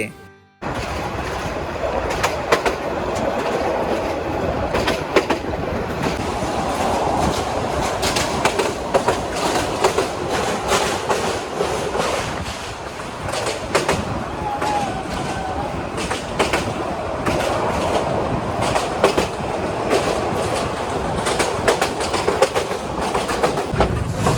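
Agnibina Express passenger train running from Dhaka to Jamalpur, heard from inside a coach: a steady loud rumble with rhythmic clickety-clack of wheels over rail joints, continuous throughout with occasional voices in the background.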